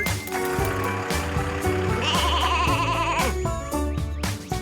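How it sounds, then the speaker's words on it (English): Repeated cartoon sheep bleats in a children's animated show, several loud wavering calls over a bouncy music background, close and clear. "It's a sheep!"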